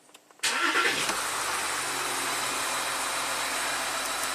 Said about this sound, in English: So let's start up the car.